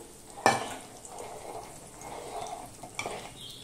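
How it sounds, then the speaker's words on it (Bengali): Fried vegetables tipped into a pot of vegetarian bhog khichuri and stirred, a sharp utensil clank followed by a soft sizzle and light scraping, then another knock, no one speaking. "ভেজে রাখা এই সবজিটা আমি এর মধ্যে দিয়ে দিচ্ছি।"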